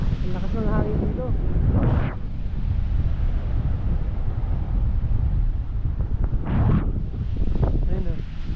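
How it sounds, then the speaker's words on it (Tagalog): Strong wind gusting at a campsite near the Bangui windmills in Pagudpud, Ilocos Norte, roaring steadily into the microphone, with brief voices talking between gusts. "Ang lakas ng hangin dito."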